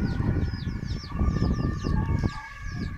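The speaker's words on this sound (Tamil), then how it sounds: "இதுதான் நம்ம கருங்கோழி" Black chickens clucking nearby in a farmyard, a run of short repeated clucks over a steady background hum.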